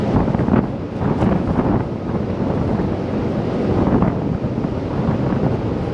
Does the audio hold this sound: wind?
yes